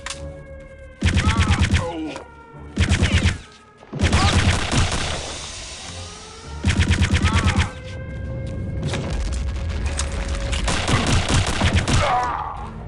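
Gunfire in the shooter game Return to Castle Wolfenstein, loud bursts of rapid automatic fire separated by short gaps, heavy echoing blasts and ongoing rattling fire in the later half.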